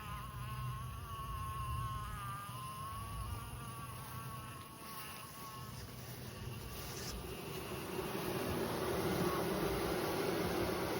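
A honey bee swarm hangs in a mulberry tree outdoors, producing a continuous dense buzzing drone that rises and wavers slightly, moderately faint and without talking.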